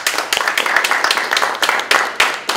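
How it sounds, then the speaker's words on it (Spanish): Clapping from an audience at a talk on emotions in international relations, a brisk burst of hand claps with a few sharp, distinct slaps standing out, fairly close and loud. "quisiera despedir a Bárbara con un gran aplauso."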